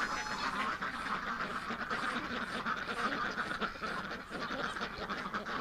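Ducks quacking in winter: a dense, continuous chorus of many overlapping quacks, close and fairly loud, with no pauses.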